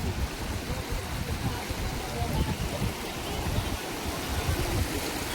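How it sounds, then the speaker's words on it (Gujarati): Water rushing at the Shekh dam on the Shingoda river, a broad continuous roar of flowing water with a rumbling low end, steady throughout the clip. "આ રીતનું પાણી જાય છે."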